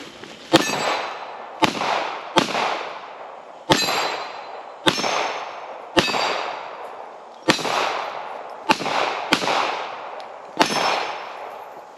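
A Springfield Echelon pistol fires about ten sharp, loud shots at uneven intervals while the shooter moves, each crack ringing out briefly before the next, with no talk.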